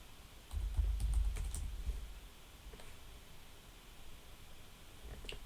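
Typing on a computer keyboard while logging in to a Windows Server 2016 Server Core machine, a brief burst of close, soft key clicks followed by a few scattered faint taps over low room noise.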